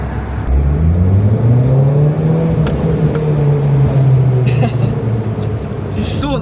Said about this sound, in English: I'm going to give myself a wee gap and then we'll give it a wee bit of throttle